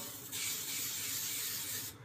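Non-fat cooking oil spray is released from a can onto a pan, a steady close hiss lasting about a second and a half before cutting off.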